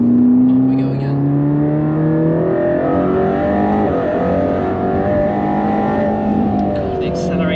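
A Mercedes-AMG GT Black Series accelerates hard, its engine note climbing steadily and loud from inside the car, with the tone rising through gears, while occupants talk over it.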